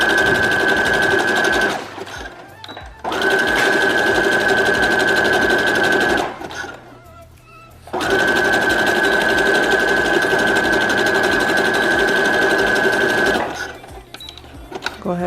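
Sewing machine stitching hair wefts onto a closure wig runs in three long bursts of steady, close mechanical whirring with a high whine, separated by short pauses where a voice talks.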